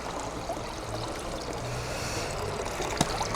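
Water trickles and pours out of a pool cleaner lifted from a pool, a steady stream that runs throughout at moderate level, with one brief sharp knock near the end and no talk.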